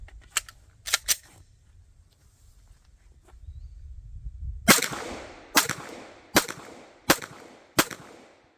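Glock pistol shots ring out sharply and close, several sharp cracks in sequence: a few quieter distant pops first, then five loud evenly spaced reports each trailing off in a brief echo.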